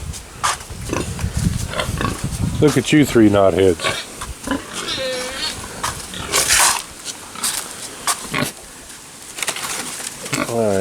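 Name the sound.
pigs grunting and oinking on a farm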